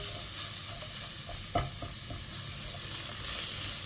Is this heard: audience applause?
no